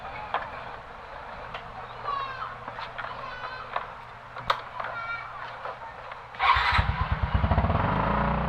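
A motorcycle rides along, its engine rumbling steadily in the background under outdoor ambience with birds chirping, then the engine swells louder and closer near the end with a revving pulse.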